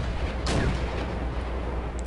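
T-80 tanks firing in the Wargame strategy game, one sharp distant cannon boom near the start over a steady rumbling battlefield bed, without further clear shots.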